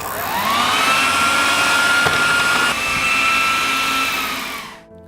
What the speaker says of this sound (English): I'm going to put it in the food processor